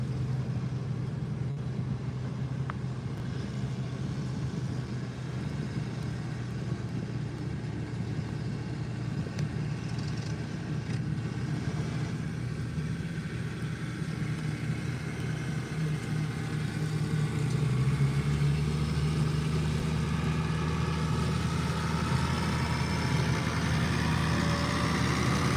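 Antique tractor engine at an OSATPA tractor pull in Sidney, Ohio: a steady low mechanical drone and rumble that swells slightly louder in the later part, running continuously without clear talk over it.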